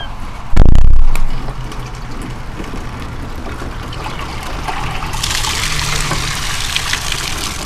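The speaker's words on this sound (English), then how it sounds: "I'll go ahead and dump that out here" Collected water is poured out of a dehumidifier's tank, beginning with a sharp knock, then a steady splashing trickle that stays moderately loud and brightens in its last few seconds.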